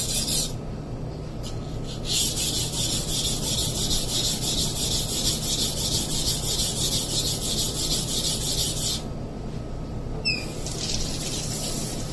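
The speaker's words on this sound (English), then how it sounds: "that's how you sharpen knife. As you grind the metal, you should always check it." A Masamoto Tsukiji kitchen knife being sharpened, its steel blade grinding steadily against a stone in a continuous raspy rubbing that runs close and fairly loud throughout, with a brief watery wash near the end.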